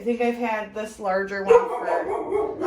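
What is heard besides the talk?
dogs barking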